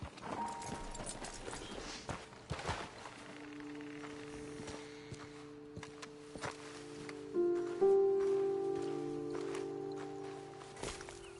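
Horses' hooves clip-clop on the ground in Red Dead Redemption 2, a soft, uneven walking rhythm under steady game ambience and music, moderately close and fairly quiet.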